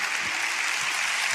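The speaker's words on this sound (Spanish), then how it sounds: "Dale un aplauso a la gente que está en casa." A church congregation applauds in steady, dense clapping that fills the space, continuous and fairly loud with no voices on top.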